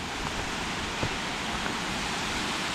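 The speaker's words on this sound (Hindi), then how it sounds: "It's a very good waterfall." A waterfall in a jungle forest in the Cameron Highlands makes a steady, dense rushing roar of falling water that stays constant throughout, with no voices over it.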